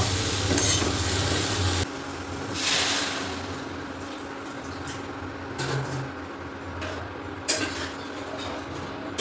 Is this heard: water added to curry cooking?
yes